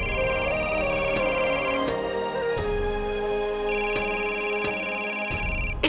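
A telephone ringtone sounds in a domestic drama scene: a loud, repeating electronic melody rings in bursts, pauses briefly under a soft tonal background, then resumes, with no one talking.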